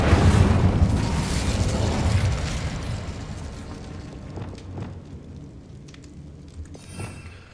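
A loud fiery Incendio fire spell blast from the video game Hogwarts Legacy, a booming burst that roars up front and then trails off into a long rumbling decay with a few small crackling pops toward the end.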